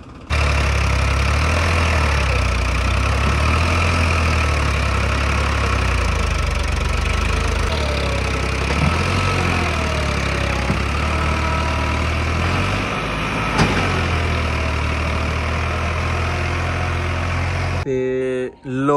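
A tractor engine idles steadily and loudly up close during paddy harvest work on a farm, a constant low rumble that continues unchanged until it cuts off at the end.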